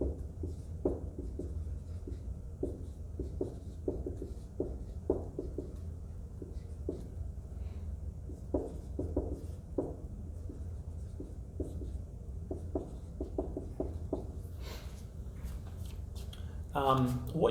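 Pen strokes scratch steadily across paper while redox half reactions are written out by hand, with a loud low hum running underneath and a brief rustle near the end.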